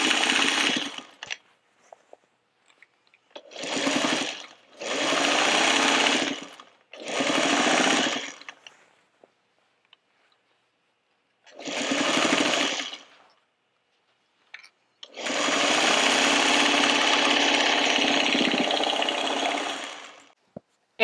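Sewing machine top stitching around the outside edge of a reversible fabric trick-or-treat bag, running in several separate bursts of steady mechanical whirring, the last one long and sustained, with quiet pauses in between.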